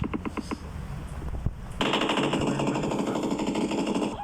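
Gunfire in the video game PUBG: a rapid series of sharp shots, then a dense, sustained rattle of automatic fire that stays loud to the end.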